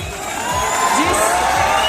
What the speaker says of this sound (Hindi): जोरदार तालियां रुकनी नहीं चाहिए